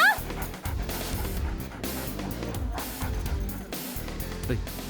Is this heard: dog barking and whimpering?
yes